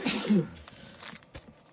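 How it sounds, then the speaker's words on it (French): A man sneezes once, a sharp, close burst at the start, followed by a few faint breaths and small movement noises. "Oh, pardon, mon mari éternue."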